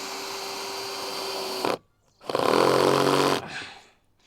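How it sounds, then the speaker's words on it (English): A power tool driving fasteners into recycled wood on a chicken coop roof, heard as two loud, sustained whirring bursts of about a second and a half each, separated by a short silence, close up with no talking. "As soon as I'm fastening this wood down, it's holding the pieces in place"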